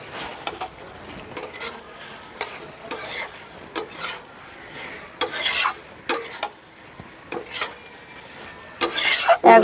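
Fried potatoes being stirred into a poppy seed paste in a pan: soft, intermittent scraping strokes come in short bursts with quiet gaps between them, close up and fairly faint.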